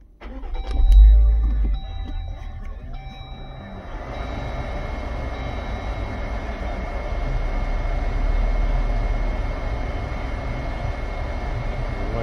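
Jeep Wrangler engine starts with a loud initial burst, then settles into a steady low idle hum that runs throughout, with a faint tonal whine above it.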